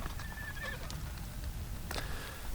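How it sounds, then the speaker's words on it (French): A herd of horses in the Vikos Gorge, with a couple of clear whinnies and neighs over a low outdoor rumble and faint hoof movement; no one speaks. "Tout un troupeau de chevaux qui est venu ce matin"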